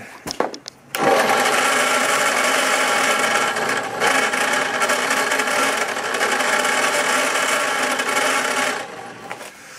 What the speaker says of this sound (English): I'm going to grind it out with a tungsten burr so I can stick the motor hub onto this